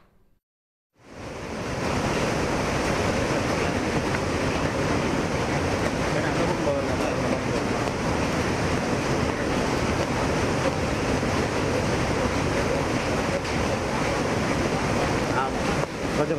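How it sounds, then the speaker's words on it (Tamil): Courtallam waterfall in flood during heavy rain, a loud, steady roar of rushing water that starts abruptly after a second of near silence and holds constant and dense throughout, with no voices. "தற்போது வரை அந்த குற்றால அருவியில் தொடர்ந்து கனமழை பெய்து கொண்டுதான் வருகிறது"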